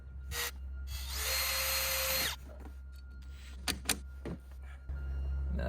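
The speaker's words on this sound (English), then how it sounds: "The stainless is tricky, so you gotta drill through it." Power drill boring through stainless steel during cabin roof leak repair, a brief whir and then a steady high-pitched grinding run of about a second, followed by clunks and taps with the motor idling again, heard close and quiet overall.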